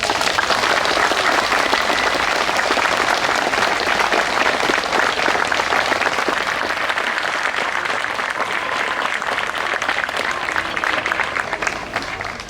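A crowd welcomes a cross-country skier onto a stage with sustained, loud applause, many hands clapping in a dense, even wash for over twelve seconds before tapering slightly at the end, with faint voices mixed in.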